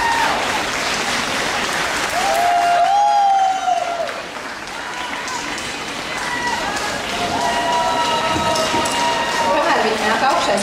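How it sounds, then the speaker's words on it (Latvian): Warm applause from an outdoor crowd at a folklore festival stage in Vērmanes garden, Riga, greeting the Russian folklore group Varavīksne from Tallinn: sustained loud clapping, with voices and some tonal sounds above it. "Sagaidām viņus ar siltiem aplausiem"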